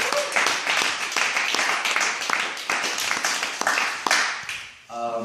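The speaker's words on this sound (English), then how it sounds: "Let's get a round of applause." Round of applause from an audience at a sales training event, dense clapping filling the room for about five seconds before fading out.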